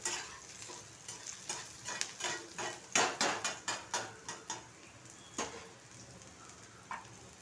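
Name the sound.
spices and garlic roasting in a pan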